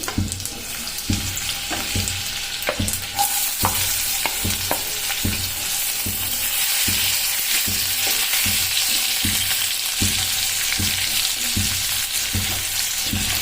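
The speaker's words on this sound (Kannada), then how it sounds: "ಎಣ್ಣೆ ಬಿಸಿ ಆದಮೇಲೆ ಇದಕ್ಕೆ ಸ್ವಲ್ಪ ಜೀರಿಗೆ ಹಾಕೋತಿದ್ದೀನಿ, ಆಮೇಲೆ ಬೆಳ್ಳುಳ್ಳಿ ಪೇಸ್ಟ್, ಆಮೇಲೆ ಉಳ್ಳಾಗಡ್ಡಿ" Cumin, garlic paste and onion hit hot oil in a pan, giving a loud, close, steady crackling sizzle with scattered pops and spatters and occasional stirring clinks throughout, no talk.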